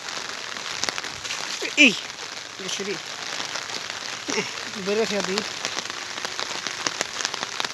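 Light rain falling near a village road by the Sonai river, a soft continuous patter on surfaces, with brief voices and a short call heard over it.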